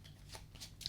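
A hand deck of Yu-Gi-Oh! trading cards is shuffled, giving a few faint, quick riffling flicks close to the microphone in a quiet room.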